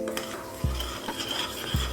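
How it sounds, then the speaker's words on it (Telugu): Spoon scraping around a pan of melting jaggery syrup for Ugadi bobbatlu, two distinct knocks against the pan over a soft continuous bubbling hiss, close and without talk. "చక్కగా బెల్లం కరిగేదాకా కలిగి పెట్టుకోవాలి"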